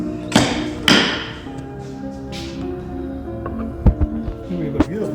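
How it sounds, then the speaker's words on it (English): A small antique wooden mallet used for wood carving strikes a few times at close range, giving two solid thuds followed by lighter scattered taps over a low background hum. "Here we have a beautiful little mallet."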